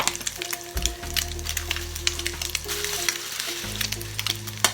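Oil sizzles and crackles in a frying pan for a Thai stir-fry of butternut squash and egg, a busy close hiss with sharp pops and scraping clatter throughout.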